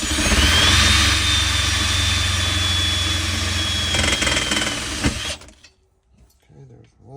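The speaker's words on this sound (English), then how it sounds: "we're gonna put these self-tappers in. I got a 1/4 inch drive with a 10mm socket." A power driver with a 1/4 inch drive and 10mm socket runs self-tapping screws into a center console, giving a loud, steady whirring buzz for about five seconds before cutting off to near silence.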